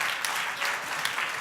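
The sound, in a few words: audience applause for startup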